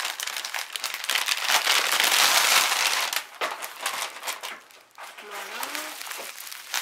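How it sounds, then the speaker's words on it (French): Bubble wrap crinkles and crackles loudly as a parcel is unwrapped, with a burst of dense rustling early on, then sporadic crumpling, and someone speaking near the end. "Déjà il y a plein de papier bulle."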